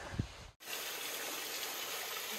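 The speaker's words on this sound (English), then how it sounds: "A nice little waterfall just before we get done with the trail." Steady rushing water from a small waterfall beside the Appalachian Trail in the Baldpate Mountain area, close and continuous after a brief thump at the start, with no talking.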